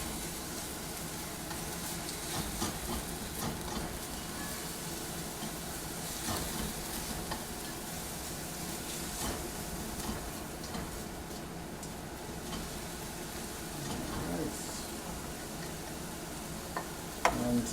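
Vegetables for egg rolls sizzle steadily in a hot pan as they soften, a continuous moderate frying hiss with faint ticks and stirring clatter, no voices.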